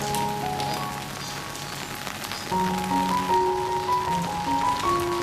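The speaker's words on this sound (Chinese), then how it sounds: "下雨了，好舒服啊" Steady rain patters on surfaces throughout, a constant soft hiss with faint tonal sounds ringing above it.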